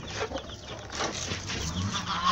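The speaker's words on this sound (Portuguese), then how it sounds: "Tem essas galinhas aqui, ó." Chickens cluck softly in a farmyard alongside chicks, a steady low chatter of calls with some rustling, moderately close.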